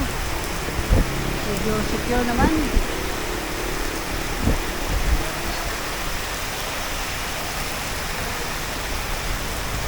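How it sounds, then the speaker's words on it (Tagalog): Steady heavy rain hisses throughout, a dense wash of noise with a few brief knocks, while a person speaks briefly over it. "Lakas ng ulan."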